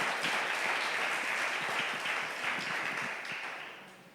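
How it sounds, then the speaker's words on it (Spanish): Congregation applause during a church service at Iglesia Paz y Vida, a steady wash of many clapping hands, moderately distant, holding level and then fading away toward the end. "Denle un aplauso al que vive y reina"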